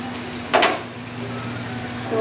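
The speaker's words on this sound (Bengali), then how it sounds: "তো এখন এই মশলাটাকে কষিয়ে নিব টমেটোর সঙ্গে" Masala and tomatoes sizzle gently in a covered pan, a steady soft frying hiss with a brief louder clink or stir partway through.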